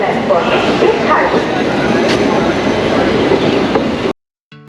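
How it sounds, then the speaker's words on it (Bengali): The Maa Tara Express pulls out of Sealdah station toward Tarapith, making a loud, continuous rumble of wheels and carriages heard from on board before it cuts off abruptly. "শিয়ালদা স্টেশন থেকে মাতারা এক্সপ্রেস ছেড়ে দিয়েছে"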